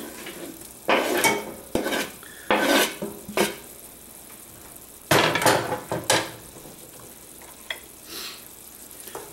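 Chopped anchovies tipped into a pan of cooking meatballs, with close scraping and clattering of utensil against pan in irregular bursts over a faint steady sizzle, and no talking.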